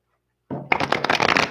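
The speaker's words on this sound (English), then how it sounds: "start by shuffling." A deck of tarot cards is shuffled after a short silence, giving a dense, rapid riffle of papery slaps and flutters, close and loud, with no talking.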